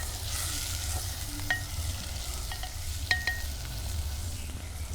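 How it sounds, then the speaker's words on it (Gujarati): Chopped onion and tomato cook in a clay pot over a wood-fired stove while being stirred, giving a steady low sizzle and faint scraping strokes, with occasional sharp clinks on the pot's rim. "હવે મિક્સ કરી અને કાંદા અને ટમેટાને ચડવા દઈશું"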